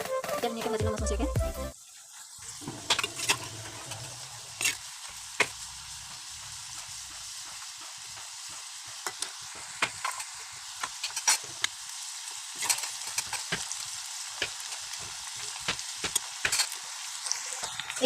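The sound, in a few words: frying khurma dough pieces in oil in a kadai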